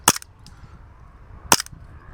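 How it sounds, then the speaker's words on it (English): A VFC Walther PDP airsoft pistol fires two sharp, snappy shots about a second and a half apart, each a crisp close crack with a brief mechanical rattle, in an otherwise quiet room. "So let's turn it on And let's get shooting."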